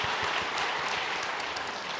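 Church congregation at a Sunday service applauding to welcome holiday visitors, dense steady clapping filling the hall at an even level throughout, with no voices over it.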